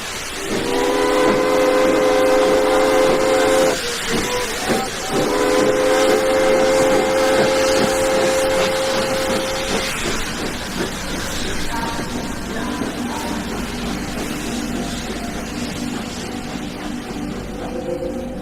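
A train pulls out of a small rural station, its loud sustained steam whistle blowing in two long blasts over a steady hiss, then fading into the rumble and clatter of the moving train.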